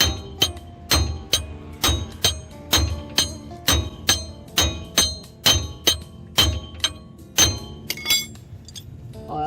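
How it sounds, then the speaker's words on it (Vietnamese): A sledgehammer strikes a welded truck part again and again, about twenty loud, sharp metallic clanging impacts in a fairly steady rhythm, each ringing briefly before the next blow. "chỉ có là mang ra lấy búa tạ mà đập á"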